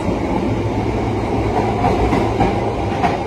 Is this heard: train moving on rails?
yes